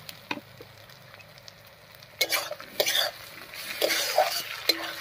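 A spatula stirs chili, garlic, ginger and cumin paste in a hot pan with a soft sizzle, giving a few scattered scrapes at first, then louder, closer scraping strokes against the metal.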